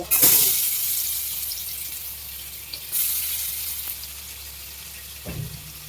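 Finely minced garlic hits hot oil with a loud burst of sizzling that settles into a steady fry, with a couple of brief clinks and stirs.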